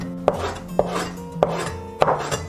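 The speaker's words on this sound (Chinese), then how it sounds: "把泡好的香菇切丁儿" A knife dices soaked shiitake mushrooms on a cutting board, four or five crisp, evenly spaced chops over faint steady background tones.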